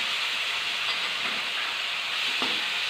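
Chopped tomatoes hit a hot pan with a steady broadband sizzle and hiss, close and fairly loud, short and continuous with no talking.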